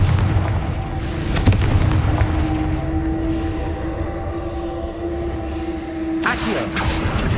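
A Confringo fire spell in the Hogwarts Legacy video game, booming blasts at the start and again near the end over a dense, rumbling roar with a sustained tonal hum in between.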